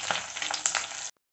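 Curry leaves and chillies frying in hot oil for a bitter gourd curry, making a loud, close, crackling sizzle with little pops. It runs steadily and then cuts off abruptly into silence.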